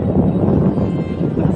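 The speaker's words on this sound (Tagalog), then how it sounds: "Grabe ang hangin, lakas." Strong wind buffeting the microphone on top of a sandy hilltop, a steady low rumbling roar that fills the whole short stretch without pause.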